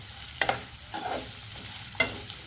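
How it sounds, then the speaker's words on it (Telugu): Sliced bitter gourd roasting in a pan over a medium flame, with a steady low sizzle and a few sharp scraping stirs of a spatula spaced about a second apart, close by and without talk. "మీడియం ఫ్లేమ్లో పెట్టేసి వేగించేయాలండి బాగా."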